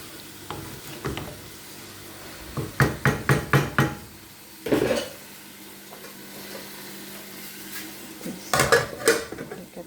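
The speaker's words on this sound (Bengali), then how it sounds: "এখন ঢাকা দিব।" A metal lid clatters onto a cooking pot in a home kitchen, a burst of rapid rattling knocks, then a single clank, followed later by another short run of scraping rattles, close and distinct over a quiet background.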